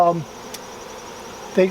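Honey bees buzzing inside a hive, a soft steady drone with a brief louder swell at the start and another near the end, close and alone.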